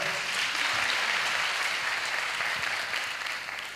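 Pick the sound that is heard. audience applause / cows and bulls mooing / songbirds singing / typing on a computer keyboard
audience applause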